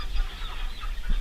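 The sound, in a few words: chickens clucking in a mobile coop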